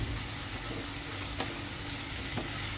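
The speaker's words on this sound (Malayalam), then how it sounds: "ഇനി ഇതെല്ലാം നന്നായിട്ടൊന്ന് വഴന്ന് വരുന്നിടം വരെ നമുക്ക് ഇങ്ങനെ ഇളക്കി കൊടുക്കാം." Curry leaves and onions frying in hot oil while being stirred, a dense close sizzle with light scraping of the spoon, steady throughout with a couple of sharp clinks.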